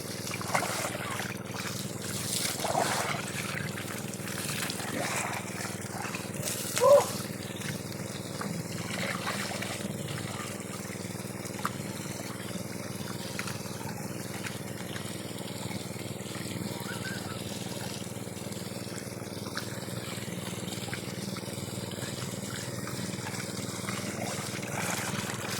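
Water pump in a farm field sending a steady, continuous gush of water, a broad rushing wash with faint splashes that stays at a fairly even level throughout.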